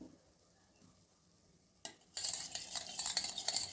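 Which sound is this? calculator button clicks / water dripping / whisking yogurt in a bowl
whisking yogurt in a bowl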